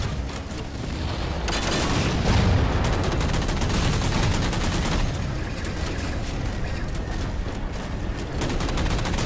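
Dense, sustained gunfire in a Halo 4 firefight, rapid overlapping shots and booming blasts filling the whole stretch at steady loudness, with no talk over it.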